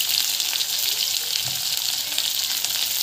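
Onion and curry leaves frying with mustard seeds and cumin in hot oil, a loud, constant hissing sizzle with faint crackles and no voices.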